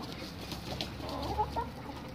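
Chickens and a rooster in a coop give quiet, scattered clucks over low background noise, with a couple of brief sharper calls near the middle.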